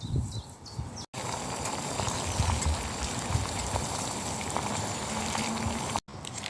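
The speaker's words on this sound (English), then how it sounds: "so my water's starting to boil now, so that's a good sign that it's almost ready." Water boils in a pot over a campfire in woodland, bubbling and hissing steadily up close, broken by two short cuts.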